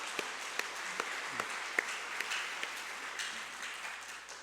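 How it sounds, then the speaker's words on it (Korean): A church congregation applauds the choir with sustained, fairly even clapping that fills the room, a few louder individual claps standing out before it slowly tapers off. "다시 한번 임마누엘 찬양대를 위해서 격려의 박수"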